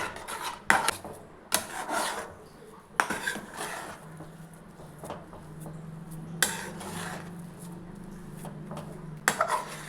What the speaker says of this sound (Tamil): நம்ம பாலை ஊற்றிட்டு மெதுவாகவே கிளறி விடலாம்